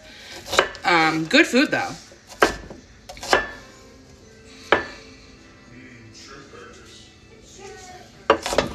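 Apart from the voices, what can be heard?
knife chopping onions for a salad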